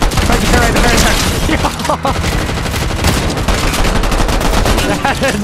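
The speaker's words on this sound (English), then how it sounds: "Shooting to your right." Fortnite gunfire, dense loud rapid bursts of shots and impacts packed together with no pause, a hectic close firefight in the game.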